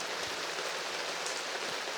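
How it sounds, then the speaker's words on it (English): A steady, dense hiss of heavy rain pouring indoors as a monsoon effect from the film Jumanji, continuous and loud with faint scattered drips and splashes. "it causes a monsoon indoors"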